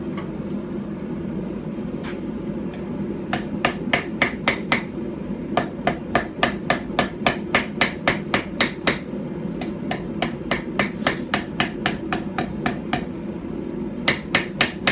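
A small hand-forged hammer strikes metal on a stump anvil over and over in a steady, ringing rhythm, close and loud, with a low background hum and no talking.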